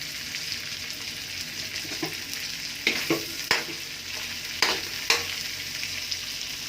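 Carrots and cabbage stir-fry in a pan for pancit canton, a steady close sizzle broken by several sharp scraping clatters of the utensil against the pan, with no talk.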